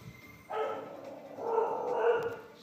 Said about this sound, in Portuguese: Sempre cachorro latindo.